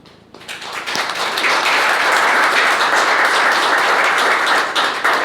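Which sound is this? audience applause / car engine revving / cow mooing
audience applause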